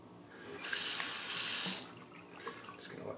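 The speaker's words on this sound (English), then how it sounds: "The water trickle here in the sink" Hot water from a tap trickles into a sink during wet shaving with soap, a brief steady splashing rush that rises, holds for about a second, then tapers to faint drips in a quiet room.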